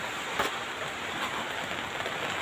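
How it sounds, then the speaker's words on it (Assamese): Steady rain hisses evenly throughout, a dense broadband wash with a few sharper drips standing out near the start. "মনে মানা নাই, ইমান বৰষুণ।"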